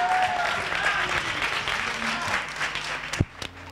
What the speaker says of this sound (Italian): Gli diamo un applauso di incoraggiamento a questi tre ragazzi.